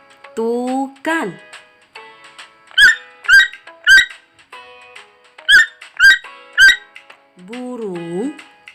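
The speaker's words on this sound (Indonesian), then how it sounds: "Burung tukan." Toucan call: two sets of three short, sharp, clicking croaks, evenly spaced and near, with a spoken voice before and after them.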